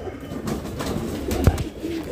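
Pigeons of fancy breeds such as Rampuri and Chandakhani kept in a loft: brief low cooing murmurs with a sharp knock midway, close and moderately loud amid background rustle, without talk.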